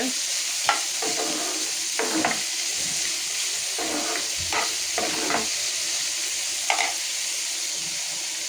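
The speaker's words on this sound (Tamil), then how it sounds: "அப்புறமா கருவேப்பிலை ஃப்ரெண்ட்ஸ் நல்லா மிக்ஸ் பண்ணிக்கோங்க." Curry leaves stirred in a hot pan for an egg puff masala, giving a steady oily sizzle broken by several short scraping clatters of a spoon against the pan.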